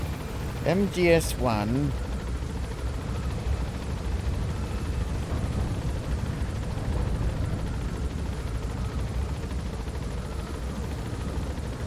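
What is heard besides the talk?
helicopter gaining altitude in Metal Gear Solid V video game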